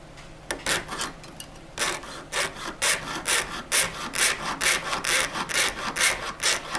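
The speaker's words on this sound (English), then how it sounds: "You always want to saw straight up and down and not at an angle." A jewelry saw cuts through flat metal sheet in steady, rhythmic back-and-forth strokes, each a bright rasping burst close to the microphone, about two strokes per second with no talking.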